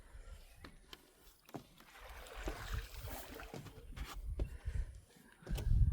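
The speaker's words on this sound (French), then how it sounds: "Il est en train de conduire la barque" A man paddles a rowboat on the Rivière Noire at Adjarra, Benin, with soft irregular water splashes and paddle strokes over a light outdoor background, close and moderately quiet, with no speech.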